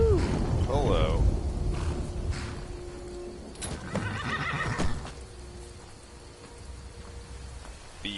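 A horse whinnies loudly near the start in The Elder Scrolls V: Skyrim, followed by softer hoof and ambient game sounds with a patter like rain in the background.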